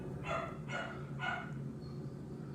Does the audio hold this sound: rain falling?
no